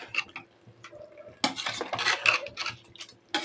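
Rice for mushroom biryani is stirred and fried in a pot: close metal spoon scrapes and clinks against the pot in short bursts, with a soft sizzle between them, and no voices.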